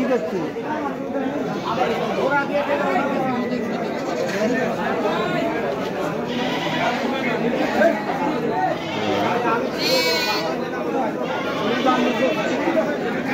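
Goats bleat here and there at a busy village goat market in Taherpur, mostly local breeds with a sheep among them, under a steady hubbub of crowd chatter and close talking.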